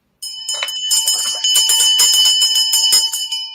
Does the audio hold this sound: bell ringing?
yes